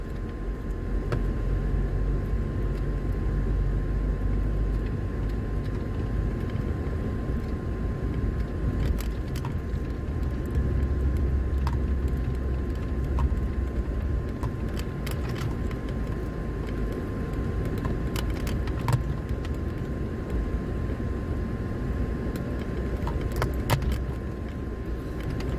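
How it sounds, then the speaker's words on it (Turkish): A car creeping in first gear along a rough, unpaved village road to the Danışment nature park, heard from inside as a constant low engine and road rumble, with occasional faint rattles and clicks. "Araç bu yollarda birinci viteste giriyor arkadaşlar."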